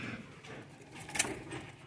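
A pigeon coos softly in a quiet indoor space, a faint low call that rises into a brief sharper sound midway.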